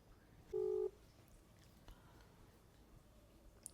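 A single short telephone keypad tone rings out clearly near the start, followed by quiet room background with no talking, as a phone is dialed to call someone about jobs and interviews.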